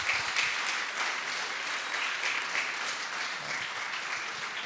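Steady, sustained audience applause at a human rights defenders conference, many hands clapping evenly at close range for several seconds with no talk over it.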